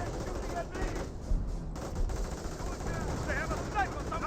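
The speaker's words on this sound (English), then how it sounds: "M2 now firing away." Rapid M2 heavy machine gun fire in a Company of Heroes 1 match, a dense rattling stream of shots mixed into busy battle noise, with talk running over it.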